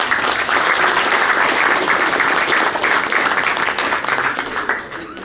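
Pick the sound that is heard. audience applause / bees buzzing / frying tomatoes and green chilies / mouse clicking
audience applause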